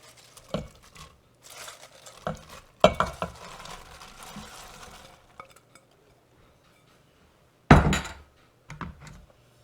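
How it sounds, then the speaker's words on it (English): Chopped cabbage stirred into hamburger soup in an Instant Pot: irregular scraping and clattering bursts from a utensil against the pot, with quiet gaps between and one sharp clunk near the end. "And give that a quick stir."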